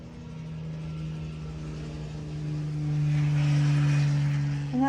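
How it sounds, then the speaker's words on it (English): A helicopter passes overhead in Plymouth, its steady low engine drone and rotor hum swelling louder partway through as it nears, then holding in the background with no talk. "And that's a helicopter going over."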